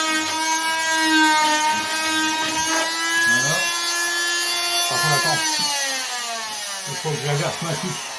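A handsaw rasps steadily through wood while running electrical conduits, a continuous scraping drone with a few strokes breaking rhythm near the end; a voice murmurs faintly in the background.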